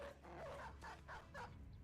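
A dog in a video game lets out a few quick, close barks and yips in a short burst, fairly faint overall.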